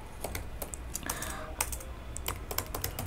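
Fingers tap quickly on a computer keyboard, a steady run of light, close clicks with no talking.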